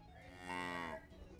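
A cow gives a single drawn-out moo, rising and then falling over about a second, heard alone and fairly close against quiet background.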